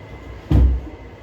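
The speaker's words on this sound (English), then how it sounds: "I'm just going to shut this door a minute." A single solid thud as a door is pushed shut in a dog grooming shop, loud and close, with a low rumble fading into steady background hum.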